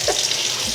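A kitchen tap in a Florida home runs steadily while the water warms, giving a continuous close hiss and splash with no talking.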